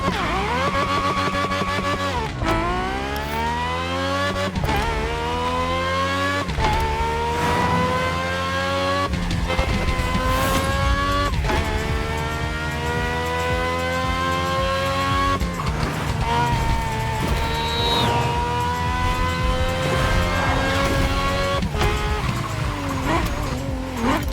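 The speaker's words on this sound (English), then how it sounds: "they basically copy-paste the Ferrari engine sound, but they have a high pitch." A high-revving Ferrari V12 engine in the racing game The Crew screams through repeated gear changes, pitch climbing then dropping with each shift, loud and continuous.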